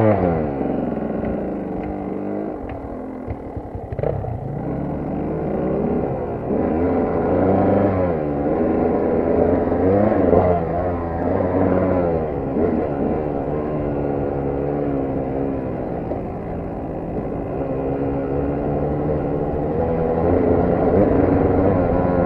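A vehicle warming up on a cold start, its engine note rising and shifting as it is put into gear, droning steadily and loudly throughout with continuous mechanical rumble and varying tones.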